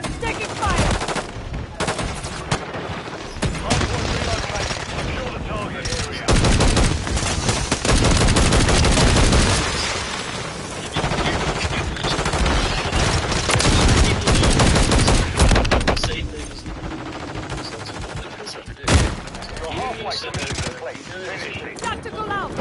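Dense, rapid automatic gunfire and scattered single shots crackle through a Call of Duty: Modern Warfare III multiplayer match, with bursts rising and falling in intensity and a voice occasionally talking underneath.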